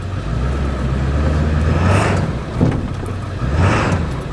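A 7.3 diesel race truck engine idles with a deep rumble and blips its throttle in quick revs, loud and close.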